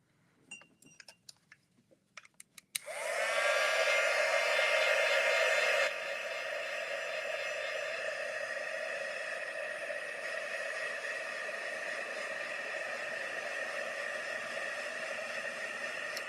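Heat embossing tool blowing hot air in a steady, loud whoosh that starts abruptly after a few faint clinks, with a strong constant tone, running alone and continuously to the end.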